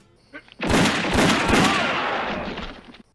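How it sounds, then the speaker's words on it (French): An artillery cannon blast used as a film gunshot effect: one heavy, booming report with a long rolling echo that slowly decays over a few seconds. "les coups de feu sont pas ceux d'un vrai pistolet à 6 coups"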